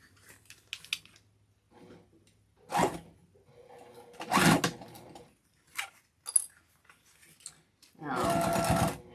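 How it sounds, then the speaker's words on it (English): Short bursts of a sewing machine back stitching over a seam on a Nantucket boxy bag, stopping and starting between pauses, close by, with a few small clinks of handling. "Back stitching over that seam, lining everything up, and back stitch."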